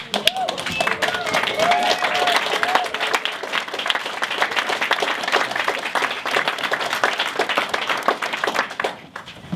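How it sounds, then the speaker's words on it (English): Audience at a 1 Million Cups startup pitch event gives a roaring round of applause, dense continuous clapping with cheering voices filling the room throughout, tapering slightly at the end. "give him a roaring round of applause"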